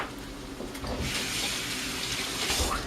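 Tap water runs steadily into a kitchen sink while a skillet is rinsed during a big stack breakfast cook, a broad hiss that swells after the first second and holds at a moderate, close level.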